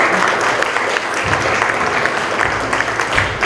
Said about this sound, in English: So let's welcome Maharaj with a nice round of applause.